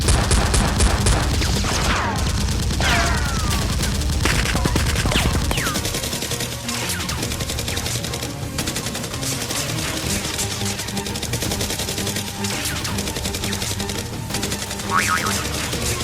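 Nerf guns fire in a rapid, chaotic toy-gun battle, with dense bursts of shots and mechanical clacks continuing throughout, loud and close, no clear talking.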